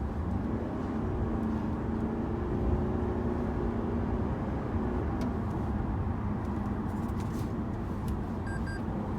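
2018 Toyota Camry Hybrid accelerating hard, a steady engine drone and road hum heard from inside the cabin, continuous and moderately loud.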